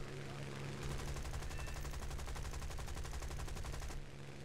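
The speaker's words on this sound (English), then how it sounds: "Put some shots into him." Spitfire Mk Ia guns firing in War Thunder, a dense, rapid machine-gun burst lasting about three seconds over the steady drone of the aircraft engine.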